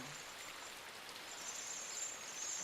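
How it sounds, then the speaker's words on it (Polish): Steady rain hisses evenly throughout in the video game Inside, soft and continuous with no voices. "I cały czas pada, wiesz? Deszcze sobie pada"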